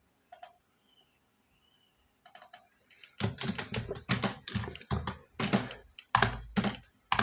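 Fingers type quickly on a computer keyboard, with dense close clacking bursts after a few faint, brief voice fragments in an otherwise quiet start.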